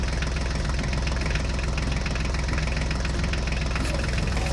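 A Mahindra tractor engine running steadily, a loud low chugging idle with rhythmic knocking pulses and vibration, close up and unbroken throughout.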